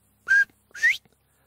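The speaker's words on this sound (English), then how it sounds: "hearing the iconic whistle of the bobwhite" Two clear whistled notes from a northern bobwhite quail, the second rising sharply upward, close and loud, followed by silence.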